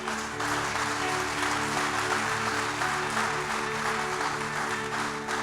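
A church congregation applauds during a sermon, with dense steady clapping over sustained organ or keyboard tones that hold underneath throughout.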